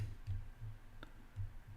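A computer mouse gives a few faint, soft clicks spaced irregularly over the quiet background. No voice is heard.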